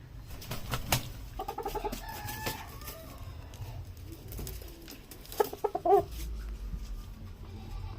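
A chicken gives a few short clucking calls near at hand over a low, noisy background.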